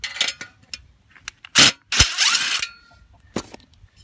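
Small metallic clicks, scrapes and a couple of louder clanks as two screws are taken out of an Atwood 8525 water heater igniter assembly. The sounds are close and irregular over a quiet background.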